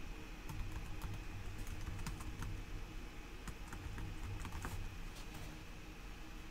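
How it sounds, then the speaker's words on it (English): Steady, fast typing on an unfamiliar computer keyboard, close and fairly quiet, with continuous key clicks and occasional sharper taps, no talking. "This is my first time ever really typing on this keyboard, and it's different."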